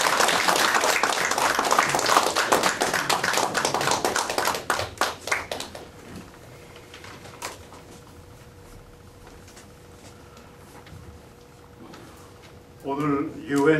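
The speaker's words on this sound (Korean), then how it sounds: "선생님을 모실 때 박수로 환영해 주시기 바랍니다" Audience clapping at a Korean interfaith gathering greets a speaker, loud and dense for about five seconds, then thinning into scattered claps and quiet room tone before a voice begins near the end.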